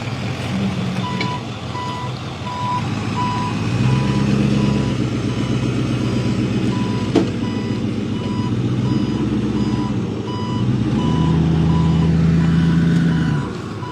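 A tow truck reverses with a steady, evenly spaced backup beeper pulsing over its low idling engine at a lagoon where a Corolla went into the water, continuous and fairly close with no talk.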